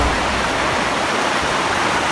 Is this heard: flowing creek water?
yes